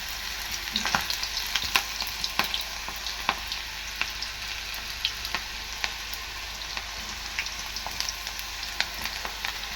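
Ragi flour pakoda batter fries in hot oil, a steady close sizzle with frequent sharp pops and crackles scattered throughout, no voices over it.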